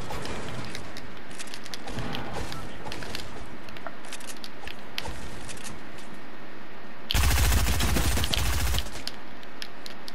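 Rapid SMG gunfire in the video game Fortnite, with repeated quick bursts of shots over a busy game soundscape and a louder, dense burst near the end.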